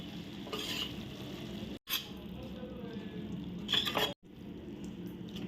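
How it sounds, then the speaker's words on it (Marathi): Spoon stirring a pot of dalimbi usal, an onion- and garlic-free field bean curry, with tamarind pulp just added: soft, quiet scraping and squelching strokes in a few short bursts separated by brief pauses. "आता ढवळून घेते"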